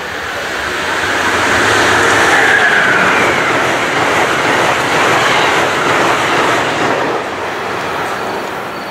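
A southbound Northeast Regional passenger train roars through the station in Newark, Delaware without stopping, a loud sustained rumble with rattling wheel clatter that swells and then slowly eases, with no voices.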